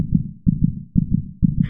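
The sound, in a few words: heartbeat recording of a dying Soviet cosmonaut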